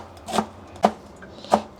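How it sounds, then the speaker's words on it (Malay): Onions chopped with a knife on a board in a home kitchen, three distinct cuts spaced about half a second apart, close and crisp with no talking. "So kita nak kena lah potong bawang"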